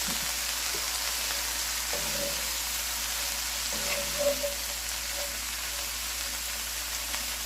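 Cabbage fries in butter and olive oil over medium heat for Southern fried cabbage, giving a quiet, steady sizzle and hiss throughout with a few faint soft clicks.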